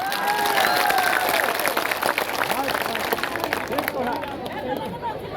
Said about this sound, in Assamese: হাত চাপৰি বজাই দিয়ক